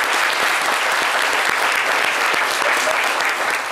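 Audience applause fills a stage show celebrating traditional dress, with young men in cloth wraps on the set; dense, steady clapping runs loud and unbroken throughout.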